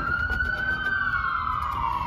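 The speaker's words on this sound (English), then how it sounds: "You can hear a lot of sirens" A wailing emergency siren sounds steadily at a distance in the background, its pitch slowly falling over a low rumbling backdrop.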